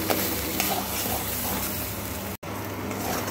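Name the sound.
dried fish mash with turmeric stirred in oil in a pan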